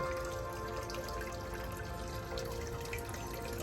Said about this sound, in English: I do have a fountain here.